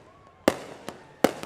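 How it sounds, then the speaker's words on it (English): Firecrackers popping outdoors in a street disturbance, two sharp loud bangs followed by fainter smaller cracks in quick irregular succession. "firecrackers going off."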